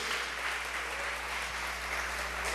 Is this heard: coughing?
no